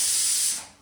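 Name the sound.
pressure cooker whistle releasing steam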